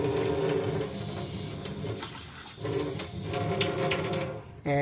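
Water pours steadily into a can, partly filling it, for several seconds, a continuous rushing splash with a brief dip midway, then a clatter at the end.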